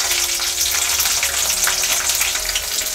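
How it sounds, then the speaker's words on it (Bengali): Whole garlic cloves and five green chillies frying in mustard oil in a wok, a steady, close crackling sizzle that runs unbroken and fairly loud throughout, with no voices. "এবার সমস্ত উপকরণগুলো আমি একটু ভেজে নেব।"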